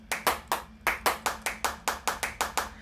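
Synthesized hand claps from a free clap VST plugin, a dozen crisp claps in a steady rhythm, close and dry with short decays, no voices.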